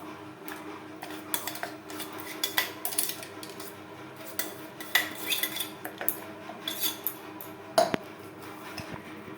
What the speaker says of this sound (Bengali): মশলার সমস্ত উপকরণ দিয়ে মাছ বেশ ভালো করে মেখে নেব।